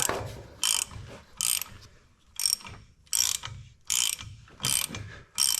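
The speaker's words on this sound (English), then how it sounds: "Look at the air ratchets." An air ratchet works bolts loose on an Allis Chalmers road grader engine, sounding in about seven short, sharp whirring bursts separated by pauses, close and clear with no talk over it.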